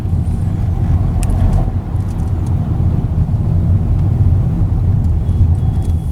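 Steady road traffic rumbles around a car crawling along a congested single-lane road, a continuous low engine drone with faint passing vehicle noises and occasional higher clinks, loud and near, with no talking.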